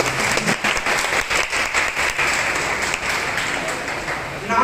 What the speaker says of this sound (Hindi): एक बार इस ऐतिहासिक क्षण के लिए खुश होकर अपने लिए तालियां बजाएं।